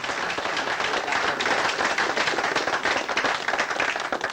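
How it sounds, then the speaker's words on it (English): A hall of fame celebration audience for Wrexham AFC gives a steady round of applause, dense overlapping claps sustained at an even level throughout. "If you give them a round of applause."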